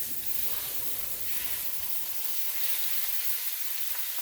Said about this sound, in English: So what I'm going to do is go ahead and put my roast right in the pot here. Oh, listen to that.